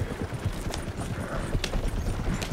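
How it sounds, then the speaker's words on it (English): Horse hooves clip-clopping in the video game Red Dead Redemption 2, a steady, continuous patter of hoofbeats at a fast gait, close and fairly loud. "My horse is following me this time."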